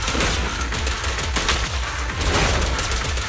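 Dense, continuous rapid gunfire in the video game Zenless Zone Zero, loud sustained bursts of shots layered over game sound throughout, with no talking.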